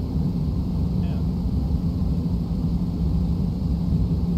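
An airliner in the video game X-Plane 12 touches down with throttles back, giving a steady, loud, rumbling roar of engine and airframe noise that holds constant throughout with no distinct events.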